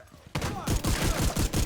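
A shotgun fires rapidly in a first-person shooter video game. A quiet lead-in gives way to a dense, loud barrage of heavy blasts in quick succession, with no voices over it.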